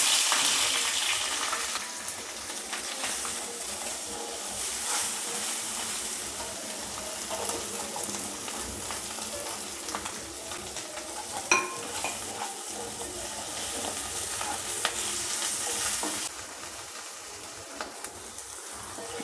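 Potatoes fry slowly over a low gas flame for a Tamil-style urulaikilangu varuval, with a steady soft sizzle and occasional scraping stirs and light clinks in the pan, running on continuously.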